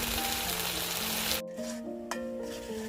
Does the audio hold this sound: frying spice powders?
yes